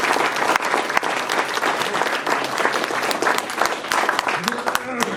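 An audience of schoolboys at a school rugby First XV captain's report gives a round of applause for their rugby coach, steady dense clapping close by that holds for several seconds, with a brief voice near the end.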